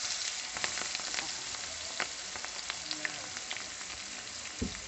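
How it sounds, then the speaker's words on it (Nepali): Onions fry and sizzle in a pan for a Nepali chicken curry, giving a steady close crackle with scattered sharp pops and a soft scrape of stirring near the end. "अनि प्याजलाई हालेर त्यसलाई फेरि चलाउने मजाले प्याज चाहिँ अलिकति लतक्कै गल्नु पऱ्यो"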